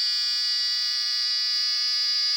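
An LM358-based solar PV water heater circuit gives off a steady, loud, high-pitched electronic whine that holds unchanged throughout, with nothing else heard.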